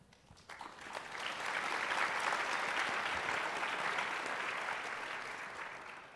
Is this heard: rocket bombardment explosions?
no